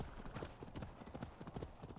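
Hooves of a galloping horse in Assassin's Creed Valhalla pound in a quick, steady clip-clop rhythm, close and prominent, during a short burst of riding.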